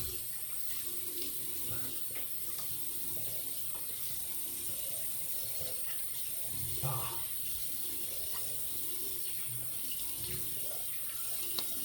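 A bathroom tap runs steadily into a sink while someone rinses after a shave, a constant close hiss of water with faint splashes and occasional clinks, no talk.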